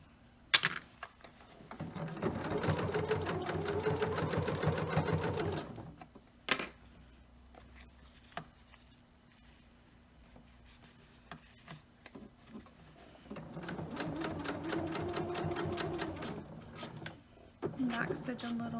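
A home sewing machine runs in two bursts of rapid, even stitching while sewing and locking a seam on an all-in-one cloth diaper, with a quiet pause and a few clicks between the runs.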